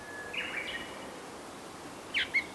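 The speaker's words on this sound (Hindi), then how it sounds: "सिर्फ चमगादड़ों की आवाजें आ रही हैं, सिर्फ पक्षियों की।" Birds chirp near an old canal building in a village at night, where bats are also flying. Two brief, faint bursts of chirping stand out over a steady outdoor hiss.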